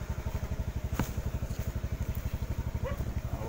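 Motorcycle carrying a rider on a rough, bumpy road during a bike marathon in Calatagan, its engine thumping in a steady, rapid pulse throughout, fairly close, with faint clatter over it.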